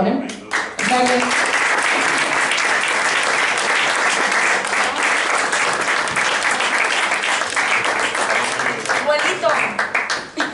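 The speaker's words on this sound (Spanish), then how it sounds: "Un aplauso sobre todo a los tres que están aquí hoy" Dense, sustained audience applause fills a hall at the presentation of the Fiesta del Asturcón, steady and loud for about ten seconds after a brief voice at the start, then tapering slightly.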